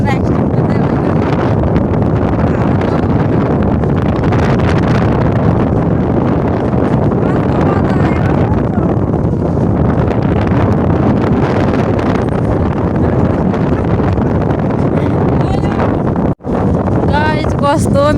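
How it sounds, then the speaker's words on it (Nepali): Strong wind buffets the microphone in a steady loud roar with gusty surges throughout, during an outing on a breezy day just before rain, with a brief dropout near the end. "हावा चाहिँ डरै आयो साथीहरू"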